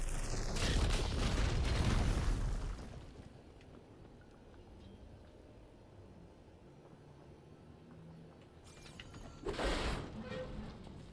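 An explosion blows up a fire beam in the video game Horizon Forbidden West: a loud burst and rumble at the start fading into quiet mechanical ambience, then a second shorter blast near the end.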